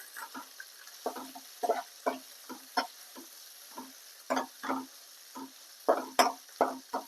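Onion masala sizzles softly in a pan while a spoon scrapes and stirs it in short, irregular strokes, close and fairly quiet, with no one talking.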